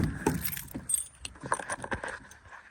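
A large bunch of keys jangles and clinks near the door of a truck being worked on, with a series of quick metallic rattles and taps over about three seconds and no talking.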